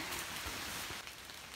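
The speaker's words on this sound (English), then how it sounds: "the drizzle coming down" Light drizzle falls steadily on the Appalachian Trail near a lakeshore in the 100 Mile Wilderness, an even, close patter of rain on surfaces with no voices.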